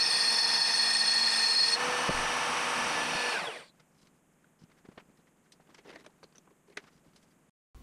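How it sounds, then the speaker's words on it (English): DIY CNC router cutting off excess wood at the edge of a plate, a loud steady close-up high-pitched whine for about three seconds that stops abruptly, leaving faint clicks and light handling noises. "Here, I'm just parting off that extra wood that's on the north side"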